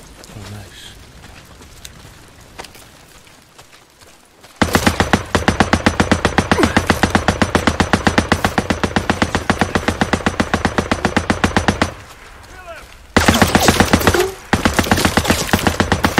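Machine gun fire in Days Gone hammers out long rapid bursts, loud and close, a steady rattling stream of shots that pauses briefly and then resumes after a quieter opening.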